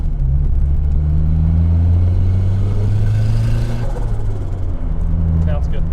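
A turbocharged car engine idles and runs roughly around 2,500 rpm, a loud, close, droning rumble with slight unevenness throughout, while people talk over it.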